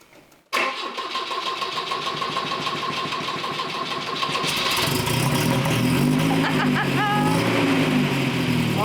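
A Volvo 240 on choke cranks and catches, settling into a steady fast idle, then revs up into a deeper, louder running note, close by indoors.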